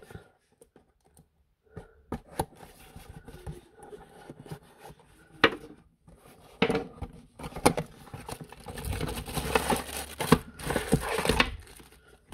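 Packaging for store-bought items, including a charging base and USB cable, is torn open and crinkled close up: sparse rustles and clicks at first, then denser, louder bursts of tearing and crumpling plastic, with no talking.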